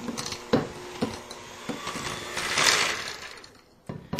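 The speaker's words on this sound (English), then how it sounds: "I'm going to use an electric mixer to do that" An electric hand mixer creams shortening with packed brown sugar, making a faint mechanical whir with rhythmic knocks about every half second.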